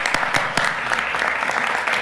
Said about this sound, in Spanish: para quien también pido un muy fuerte aplauso al senador coordinador don Ricardo Anaya